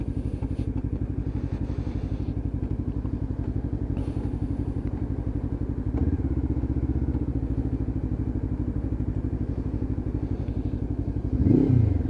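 Lexmoto LXR 380cc motorcycle engine idling with a steady, deep rumble throughout, a slight rise in level around the middle and a brief louder blip near the end, close to the microphone with no talk.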